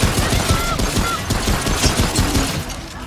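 Rapid gunfire in the video game Remnant, a dense run of loud close shots and bursts through the whole stretch, with faint game effects underneath.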